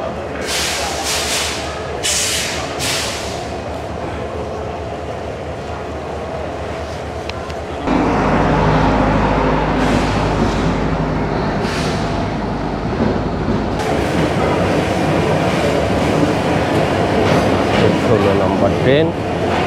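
The Parjatak Express train from Dhaka to Cox's Bazar gives a loud, continuous rumble on an early morning, growing heavier and deeper partway through and holding steady to the end.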